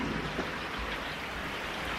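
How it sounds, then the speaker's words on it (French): Steady rain falls throughout on an evening, a dense continuous hiss of drops with no talk, at even loudness from start to finish. "il s'est remis à pleuvoir"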